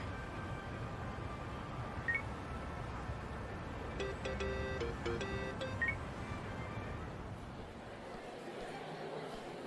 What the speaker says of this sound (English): Kasuga, call me on your phone.